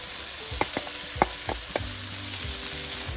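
Garlic frying in olive oil with onion in a pan for a roast beef dish, a steady close sizzle broken by several sharp stirring clacks and scrapes, with no talking.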